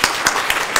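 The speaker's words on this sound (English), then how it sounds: "Can we give him another round of applause?" A small audience at a university statistics showcase gives a short round of applause for a guest, with a few distinct claps rising and fading over less than a second.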